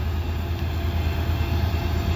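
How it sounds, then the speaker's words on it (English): A loaded CSX coal train rolls past at Parrs Ridge summit, a steady, heavy rumble and clatter of railcars close by with no voices. "Yeah, it's a coal train."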